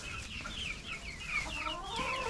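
Chickens cluck in a coop with straw spread for the hens, a steady, close chatter of several birds with overlapping calls throughout.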